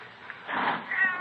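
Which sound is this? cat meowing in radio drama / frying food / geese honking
cat meowing in radio drama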